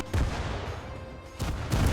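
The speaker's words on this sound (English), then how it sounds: "I am very curious to see what this thing is like whenever it impacts, it fucking explodes" Fireworks launched from a car blow up on impact in the demolition racing game Wreckfest, producing a few loud, sharp booms with rumbling engine noise between them.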